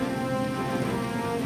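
Heavy rain pours steadily during flooding, a dense continuous hiss and patter with a low rumbling undertone, loud and close with no voices.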